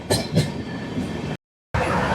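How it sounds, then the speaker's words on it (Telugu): Steady rumble and clatter of the Visakhapatnam to Tirupati express running near Dwarapudi, heard from inside the coach, loud and continuous with a brief silent dropout. "ట్రైన్ ఇప్పుడే ద్వారపూడి క్రాస్ అయింది"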